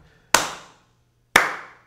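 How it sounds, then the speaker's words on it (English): Clap sample in a dancehall beat with reverb, two sharp single claps about a second apart, each with a reverb tail that decays before the next hit. "And I have a clap here."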